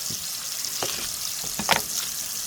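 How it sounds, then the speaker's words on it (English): Bacon frying in a pan for a brisket and potato hash gives a steady close sizzling hiss, broken by a few soft scrapes and pops, with no voices. "while the bacon's coloring up"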